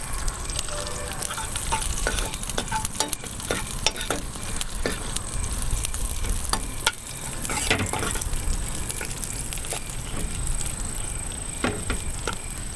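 Raisins fry in hot oil in a pan as a spoon stirs them, a continuous close sizzle broken by scraping and tapping strokes of the stirring, with no talking.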